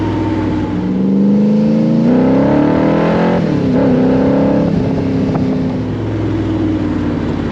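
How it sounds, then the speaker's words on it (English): A loud 1965 Shelby Cobra 427 replica by Superformance, 585 horsepower with side-pipe exhaust, roars nearby as the engine revs up through gears, the pitch climbing, dipping, then climbing again in a raspy drone. "If you've never driven anything with side pipes and you love the sound of exhaust"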